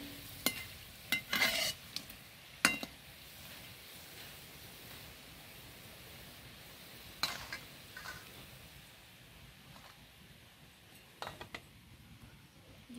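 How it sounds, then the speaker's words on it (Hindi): Pakoras frying in oil, a low steady sizzle broken by sharp scraping and clattering strokes of a ladle in the pan, in bursts near the start, middle and end. "अभी तेल में फ्राई हो रहे हैं"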